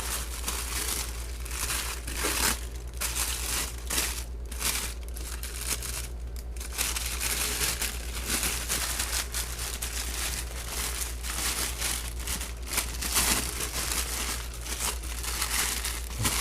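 Wax paper crinkled and crumpled while unboxing a D2 steel Persian-style fighter knife with a camel bone handle: continuous close, loud rustling and crackling in irregular bursts, with occasional tearing sounds and no speech.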